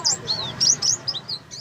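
A pleci, a white-eye songbird, gives quick, high, thin chirps in a rapid series, close and clear over a faint low background.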